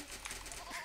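Sheep bleating in the strategy game Age of Empires, a few short wavering bleats over a steady background bed of game sound, fairly faint.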